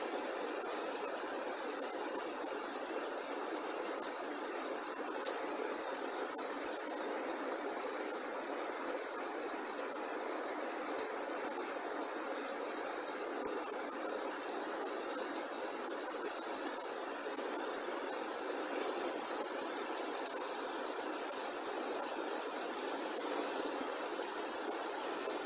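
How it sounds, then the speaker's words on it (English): A river swollen by heavy overnight rain rushes past with a constant, even roar of flowing water, steady and unbroken from start to finish with no voices. "Look at that river flowing."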